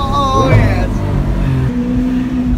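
A Lamborghini Aventador SV Roadster in a supercar convoy in snow, its engine revving loud and close with rising and falling pitch, while excited voices talk over it.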